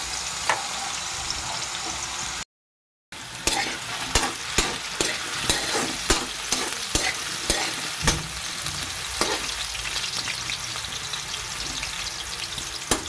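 Carrots frying in hot oil for menudo, a steady sizzle with frequent sharp scrapes and clicks of a utensil stirring the pan, close and clear after a brief gap of silence.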